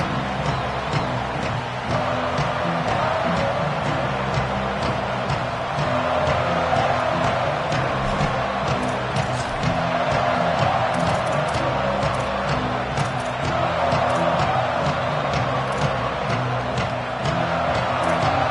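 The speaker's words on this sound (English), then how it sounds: "This crowd bringing the energy and noise early" A stadium crowd roars steadily at an American football game, a dense, continuous wall of cheering and noise that holds loud throughout with small swells.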